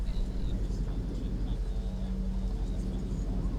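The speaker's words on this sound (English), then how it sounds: "So now we can hear the engine spooling up." A jet airliner's engines spool up for takeoff, shown in virtual reality. The low, continuous roar fills the background while a voice talks over it.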